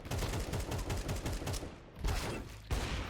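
Gunfire in an online ranked video game: rapid volleys of shots in dense bursts, broken by two short pauses, fairly quiet overall and with no talk.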